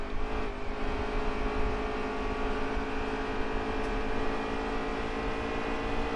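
High-revving race car engine in a NASCAR Cup racing video game at Pocono, a steady sustained whine held near the limit for several seconds with no talk.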